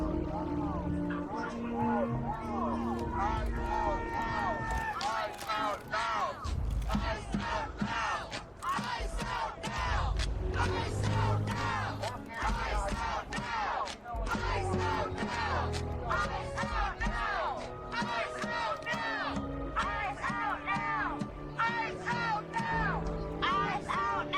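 A massive protest crowd roars and yells continuously, many voices shouting and chanting together, loud and close throughout without pause.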